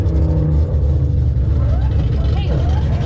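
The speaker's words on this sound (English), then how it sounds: "That's the sound of a Ferrari or a Lamborghini." A black Lamborghini sports car passes, its engine note rising and falling briefly through a heavy, constant low rumble of road noise, with people's voices close by.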